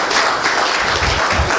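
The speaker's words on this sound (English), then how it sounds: "Give yourselves another round of applause for coming out here" An audience at a lecture in a church breaks into a brief burst of applause, dense even clapping from many hands filling the room throughout.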